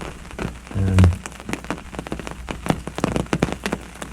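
Steady rain patters onto a swollen river on a mild, overcast day, with a dense spray of drops and a few louder close splashes. One heavier thump comes early, and nobody speaks.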